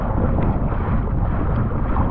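Steady headwind buffeting the microphone on a kayak out at sea while fishing, a loud continuous low roar with no breaks and no voices.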